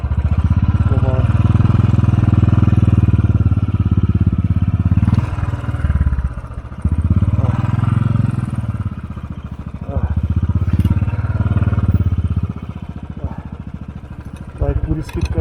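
A motorcycle engine stutters and misfires while climbing a rough mountain road in North Sikkim, loud close revving that surges and drops in uneven bursts, with someone talking over it.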